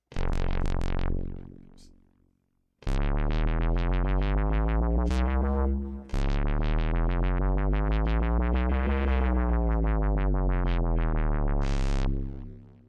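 Synthesized tones play in a strange, slightly off-kilter 17-equal-divisions-of-the-octave tuning, first in short plucked runs and then as long sustained chords sliding up and down.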